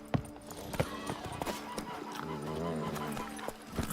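Roach the horse clip-clops along in a video game, steady hoofbeats under a voice talking and a background musical score.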